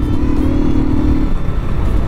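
A motorcycle fitted with an aftermarket air filter and no exhaust modification, its engine revving loudly up close. A steady, low drone holds with a brief tonal rise early on, then settles.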